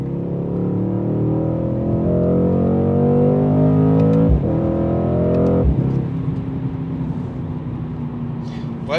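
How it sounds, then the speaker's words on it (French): Mercedes-AMG C63 S with a 4-litre biturbo V8 accelerating on a snowy road, a loud steady engine drone rising in pitch, briefly cut twice by gear shifts before settling into a constant roar. "J'ai essayé de vous montrer un peu l'accélération, un peu ce que ça procure ce 4 litres biturbo."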